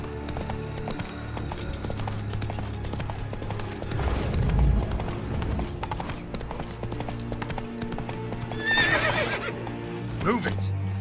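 Roach the horse in The Witcher 3 gallops with a steady, rhythmic hoof clatter under game music and ambience, while a shrill whinny rises near the end.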